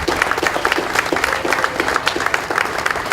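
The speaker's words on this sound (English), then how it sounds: "ask everybody to give us yet another round of applause for Marianne" An outdoor crowd at a Cape Verdean flag raising ceremony claps steadily for a few seconds, dense and even applause with no break.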